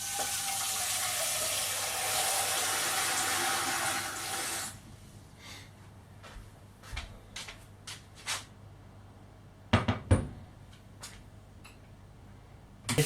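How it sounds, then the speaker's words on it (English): A large saucepan fills with running water from a kitchen tap for cooking pasta, a steady loud rush for several seconds that stops, followed by scattered clicks and clatters of pans and utensils. "Put a large saucepan of water with half a teaspoon of salt onto boil for the pasta."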